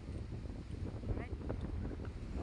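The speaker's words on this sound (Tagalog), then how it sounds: "So lakas ng hangin mga kabalita, oh. Lakas ng hangin." Strong wind blowing outdoors beside a river: a continuous, loud rushing roar of gusts buffeting the microphone, steady throughout with low rumbling turbulence.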